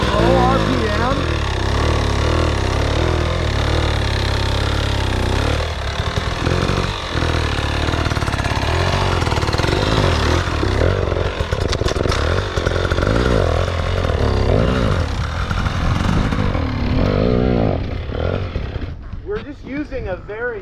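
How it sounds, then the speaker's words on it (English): Dirt bike engine revving and dropping through low-RPM clutch flips during a clutch control drill, loud and close, rising and falling in pitch throughout while someone talks over it. "Using a very similar clutch flip to move that bike from left to right, to maintain traction on the rear tire"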